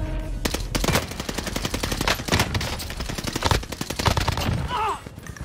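Rapid bursts of automatic gunfire from an Army Navy video game, loud and close, with dense rattling volleys and short pauses between them.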